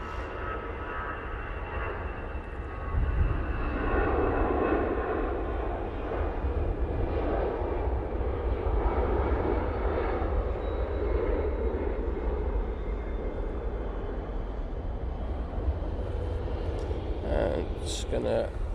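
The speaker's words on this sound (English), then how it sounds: "we do have a Ryanair coming in. This is the one from Riga." A Ryanair airliner arriving from Riga at Manchester Airport rumbles in from a distance, its engine roar swelling and holding steady at moderate level, with a voice talking intermittently over it.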